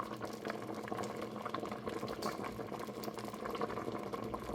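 Kumquat marmalade cooks at a steady boil in a pot, producing a continuous bubbling, burbling wash that stays fairly even and close throughout, with no talking.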